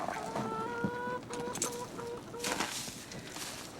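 Chickens in a frosty barn cluck and call in a lively cluster, with a few sustained squawks over a low murmur of the flock, close by and without talk.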